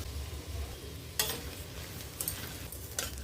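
Onions, beans and carrots frying in a pan for rice upma, a steady soft sizzle with a few scraping strokes of a spoon stirring through the vegetables.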